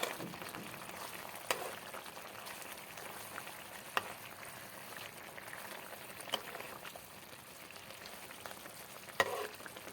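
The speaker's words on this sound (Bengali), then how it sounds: "এবার এটা একটু এপিট ওপিট ভালো করে নিলেই হয়ে যাবে, কারণ মাছটা আমি খুব ভালো করে ভেজে নিয়েছি।" Fried rohu fish turned over in a simmering mustard and poppy seed sauce, a faint steady bubbling sizzle with a few soft knocks of the spatula against the pan, no voices.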